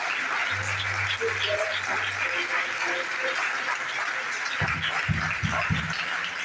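A church congregation claps and cheers to acclaim God during a Sunday service, a steady wash of applause filling the room with a few louder hand claps near the end.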